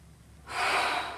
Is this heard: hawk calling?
no